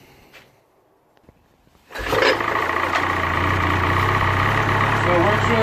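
A Ski-Doo snowmobile engine with its muffler reinstalled fires up after a quiet stretch of faint handling noises, then settles into a loud, steady close-up idle rumble that continues to the end.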